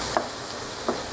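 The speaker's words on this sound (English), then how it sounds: "Each time you do a pan flip, you may find a few more onions that don't want to be included." Onions sizzle in a pan during spaghetti sauce prep, with two quick soft bursts about three-quarters of a second apart as the pan is flipped and the onions toss, over a continuous frying hiss.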